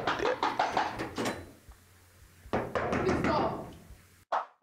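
Several sharp knocks on a door in quick bursts, close and loud, with a pause between groups and a final single thud, in a home drama scene.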